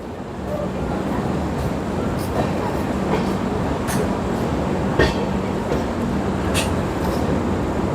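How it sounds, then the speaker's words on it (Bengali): The Darjeeling Mail pulls out of Barddhaman Junction after a two-minute halt, with a continuous rumble of rolling wheels and regular clicks of rail joints heard from on board. "ট্রেন দু মিনিট দাঁড়িয়েই ছেড়ে দিয়েছে"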